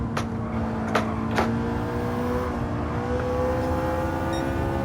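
A McLaren 650S in Gran Turismo 7 holds a steady, strained engine drone under throttle, with a few short clicks at the start and a faint rising whine, and no talk.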